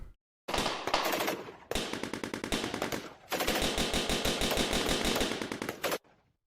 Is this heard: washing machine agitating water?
no